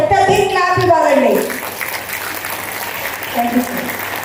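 An audience at a school event gives a burst of applause, loud at first then thinning out, while a voice speaks over the clapping at the start.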